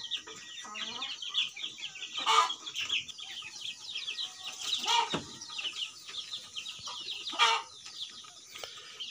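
A flock of black-meat chickens clucks softly on a farm, steady low chatter with occasional sharper squawks standing out, heard at a distance without talk.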